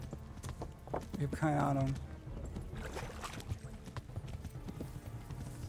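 Horse hooves clip-clopping in the medieval role-playing game Kingdom Come: Deliverance on Xbox, a steady rhythmic patter running under a voice as he talks through the whole stretch.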